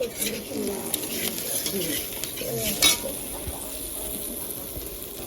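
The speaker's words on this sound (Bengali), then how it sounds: "এগুলোকে এখন সুন্দর করে ভাজতে হবে। কাঁকরোল ভাজবো" Spiny gourd (kakrol) slices frying in hot oil in a home kitchen, giving a steady soft sizzle with light stirring scrapes, while birds coo and chirp faintly in the background.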